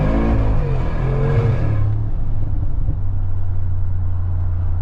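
A 2025 Mercedes G63 AMG facelift's V8 heard from inside with the windows down, a loud deep engine roar rising in pitch then settling to a steady low drone with wind rush.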